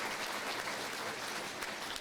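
Crowd at the 2023 ELCA Synod Assembly gives a continuous round of applause, a uniform wash of many hands clapping at a steady level with no speech heard over it.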